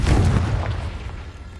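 A Confringo blasting spell explodes in Hogwarts Legacy, a single loud booming burst at the start that rolls off into a decaying rumble, with nothing else over it.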